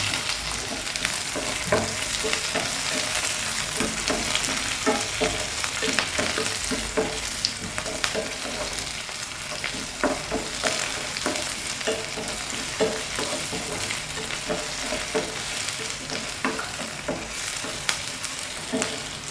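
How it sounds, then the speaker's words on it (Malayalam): Sliced onions frying in a pan for a Kerala breakfast dish, with a steady close sizzle broken by frequent scraping stir strokes that run throughout with no talk. "സവാള നല്ലതുപോലെ ഒന്ന് മൂത്ത് വരണം."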